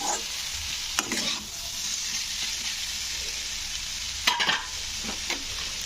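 Long beans fry and sizzle steadily in a pan, a constant close hiss broken by a few scrapes of stirring.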